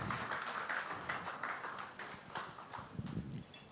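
An audience applauds Mr Kalala Machine at a launch ceremony for a retirement programme held by former students of Malula: steady, dense clapping from a crowd that holds throughout without pause.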